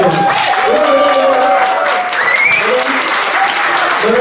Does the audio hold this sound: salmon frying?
no